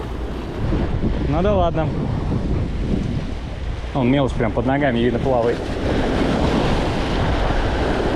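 Strong wind and surf on a rocky seashore during rock fishing with light spinning gear, a steady loud roar of wind buffeting and breaking waves running throughout, with someone talking over it in bursts.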